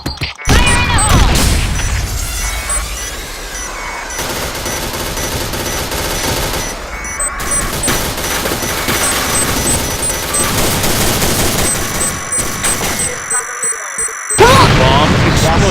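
Game explosions and sustained automatic gunfire in the shooter Point Blank, dense and loud throughout with a burst near the end, while players talk over the din.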